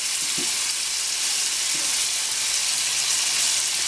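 Halved, boiled potatoes fry in a pan with a steady, bright, hissing sizzle close up, with a couple of faint scraping stirs and no talking.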